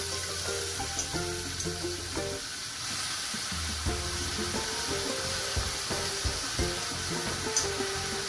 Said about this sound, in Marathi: तर ही बारीक मेथी आहे, ती आता आपण याच्यामध्ये टाकणार आहोत।